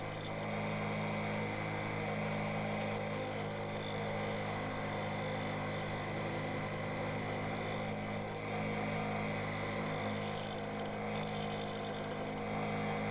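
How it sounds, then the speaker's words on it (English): A wood lathe spins an off-center sycamore crotch bowl that shakes as the wall gets thinner. A loud, steady motor drone with a constant whine carries on without a break, and no one speaks. "You can see the thinner I get, the more the lathe is starting to shake around as the off-center portion becomes the heaviest bit of its rotational."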